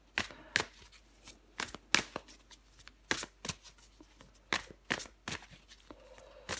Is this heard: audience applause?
no